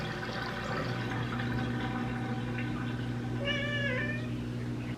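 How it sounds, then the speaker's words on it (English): A cat meows in a short rising-falling call near the end, heard close and alone over a steady low hum and drain-water noise from a running dishwasher. "here is a cat."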